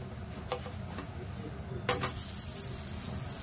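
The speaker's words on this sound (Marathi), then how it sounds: "गॅस आता मी थोडासा फास्ट करते आणि चारी साइडने तेल सोडते याला" A dosa on a hot pan with oil drizzled around its edges over raised heat, faint sizzling with a few light taps that suddenly swells into a loud, bright, continuous hiss partway through.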